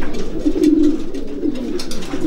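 Pigeons in a loft coo in soft, repeated low throaty calls, close and steady, with light rustling and faint chirps over the top.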